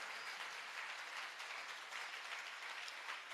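An audience claps steadily through a welcoming ceremony for a Jain monk, P.P Arah Sagar Ji Maharaj, in Madanganj. The applause is a dense, even crowd sound with no pauses and no voices standing out.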